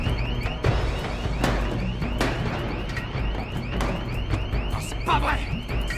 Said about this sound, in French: Mais enfin, personne n'est foutu d'éteindre cette alarme!